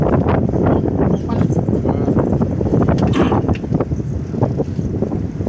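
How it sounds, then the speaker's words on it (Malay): Strong wind buffets a fishing boat at sea on a yellowfin tuna trip, a steady loud roar of gusts and microphone buffeting with water noise and the hum of the boat throughout. "Angin tengok angin kuat ni"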